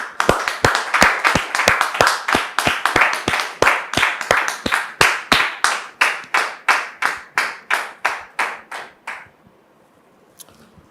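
Studio audience on a French-language talk show clapping in unison, a steady rhythmic beat of about three claps per second that slows and fades out, ending in near silence.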